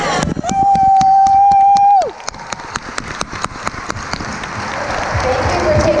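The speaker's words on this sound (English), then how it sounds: "Let's give you a round of applause." Scattered claps and cheers from a convention crowd at a Lucifer cast panel, at first under a loud sustained whistle-like tone, then as separate sharp claps that grow into a broader wash of applause.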